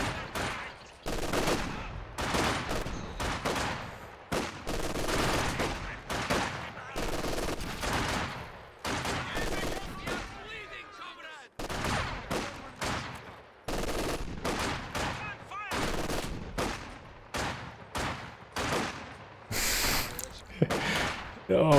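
Rapid machine gun bursts and rifle fire from a Company of Heroes 2 battle, conscripts firing on grenadiers behind heavy cover, dense and continuous with explosions and someone talking over them.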